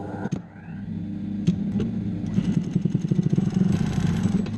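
A sewing machine stitching along the open edge of a fabric face mask, a rapid mechanical clatter and hum that starts after a brief pause and runs steadily, close and moderately loud.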